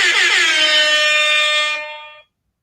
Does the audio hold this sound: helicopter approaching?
no